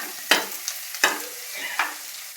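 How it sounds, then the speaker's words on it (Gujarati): Crushed garlic and asafoetida sauté in hot oil for a Gujarati curry leaf sabji, with three sharp stirring scrapes over a faint, quiet sizzle. "થોડી વાર માટે આપણે સાતળવા દઈશું લસણને"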